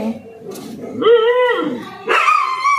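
Dogs bark, yip and whimper up close after a fight in a garden house yard, a few sharp, tonal, agitated calls in quick succession, loud and near.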